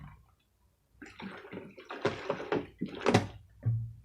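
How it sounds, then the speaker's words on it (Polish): Two liters of water are poured into a container to mix gypsum plaster for casting decorative stone, heard as a few splashy bursts after a short silence, close and moderately loud, with no talking. "Dobra, wlewamy wodę."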